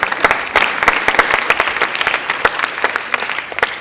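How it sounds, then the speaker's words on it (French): Close audience applause in a hall at the opening of the BDFIL 2016 comics festival at the Capitole, with distinct sharp individual claps standing out over a denser layer of clapping. "on peut l'applaudir très discrètement, comme si de rien n'était"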